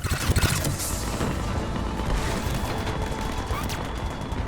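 Spaceship cannons fire in a Mass Effect 3 battle, a dense, continuous barrage of booming blasts and rattling gunfire with a heavy low rumble, sustained and loud throughout.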